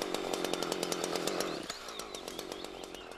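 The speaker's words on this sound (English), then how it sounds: "Saw about 1/3 of the way through the trunk or until it starts to pinch the bar." A Husqvarna chainsaw cuts about a third of the way through a tree trunk, its engine loud and close with a rapid pulsing rasp that drops in pitch and eases as the cut slows.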